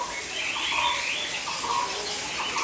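Birds chirp inside an enclosure at Chester Zoo, with high, twittering calls scattered over a constant hiss of rushing water nearby.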